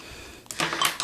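A two-piece metal canning lid clicks onto a glass jar during home canning, a couple of close, bright little taps and clinks of metal on glass after a quiet start.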